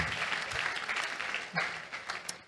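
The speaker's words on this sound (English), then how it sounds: "Let's clap our hands properly." Conference audience clapping, a soft, distant patter of many hands held at an even level for a couple of seconds, with a few murmured voices in the background.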